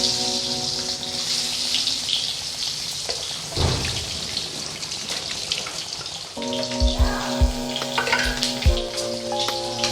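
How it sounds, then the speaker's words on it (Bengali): Eggs frying in hot oil in a pan give a steady sizzle and crackle throughout, with kitchen clatter and a few low thumps near the end; no one speaks. "তেল গরম হয়ে গেছে, এবার ডিম আমি ভেজে নেব।"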